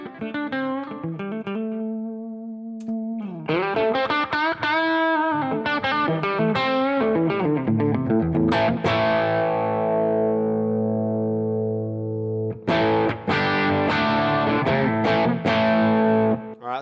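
Electric guitar played through a Headrush preset with a light slapback echo, loud, clean-to-driven notes and chords ringing out with a short repeat and a long decaying chord tail, then busy strummed stabs.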